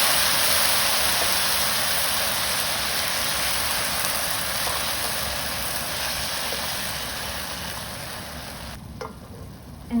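A 14.5-ounce can of diced tomatoes pours into a hot pan, raising a loud, dense hiss of sizzling that slowly softens and then cuts off near the end.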